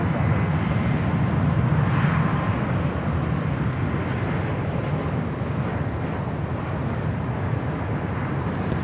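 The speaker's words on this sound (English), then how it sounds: "we've captured the UPS 767 coming in from Louisville, Kentucky, flight 2900." Steady, loud roar of a UPS Boeing 767 jet arriving from Louisville to land at LAX, a broad continuous engine rumble holding level throughout with no talk.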